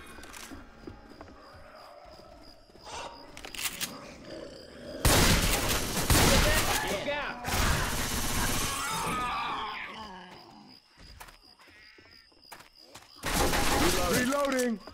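Rapid bursts of explosive-round gunfire in Left 4 Dead 2's Swamp Fever campaign, loud booming volleys interspersed with quieter gaps, game noise and chaotic impacts throughout.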